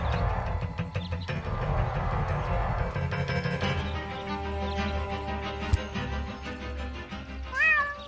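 A cartoon cat meows in a sad pleading way inside the point-and-click game Deponia, heard over a steady bed of game music, with a few rising cries that grow louder near the end.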